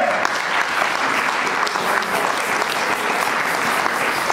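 A church congregation applauds steadily and loudly during a French-language sermon, a dense, sustained clapping filling the hall without pause.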